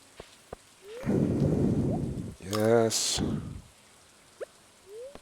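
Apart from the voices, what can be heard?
rain and thunder in Stardew Valley video game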